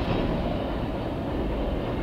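A long CSX freight train rolls steadily past a railroad crossing, its cars bouncing over the crossing after heavy rain, producing a continuous broadband rumble heard from a distance with no speech.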